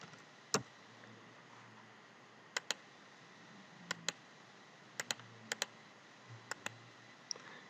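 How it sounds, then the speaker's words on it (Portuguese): Keystrokes on a computer keyboard as a number is entered: a few quiet, sparse clicks, some in quick pairs, over faint room hiss. "Se eu digitar aqui 11"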